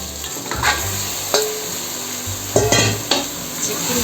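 Chicken frying with tomatoes in a pan for chicken pulao gives a steady sizzle, broken by several louder bursts of stirring and scraping in the pan. No one speaks.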